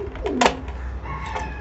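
A domestic pigeon gives a single short, fairly close coo over low background rumble, in a loft with young squabs.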